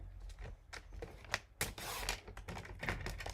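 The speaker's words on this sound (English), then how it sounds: "I'm going to need to trim this one up so that we'll have an inside card" Card stock being trimmed to size for an inside card panel of a handmade card, a run of close, quick crisp cuts and rustles in an irregular rhythm with no talk.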